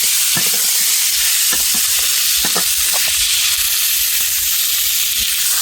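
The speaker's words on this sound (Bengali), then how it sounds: "এই যে ডাঁটা সজনা খাড়া যেটা কেটেছিলাম সেটা দিয়ে হালকা একটু ভেজে নেব, বেশি ভাজবো না।" Drumstick (sajna) stalks fry lightly in a pan, a loud, steady sizzle punctuated by quick spatula scrapes and clinks as they are stirred.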